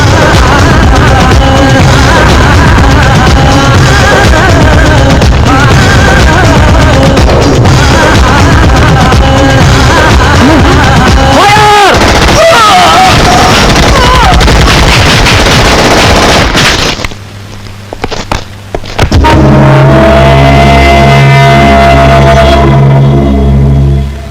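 Loud, sustained bursts of gunfire crackle and rattle through a tense film scene, dense and continuous before a brief lull, then heavier, booming shots return near the end.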